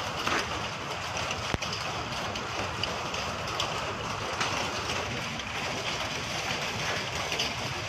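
A dense, steady patter of volcanic stones falling like rain during the Taal volcano eruption in the Philippines, hissing and clattering continuously, with a sharp crack near the start.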